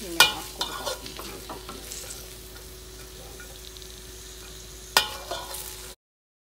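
Onion frying in oil and being stirred, a soft continuous sizzle with sharp spoon scrapes and clinks against the pan at the start and again near the end, no voices.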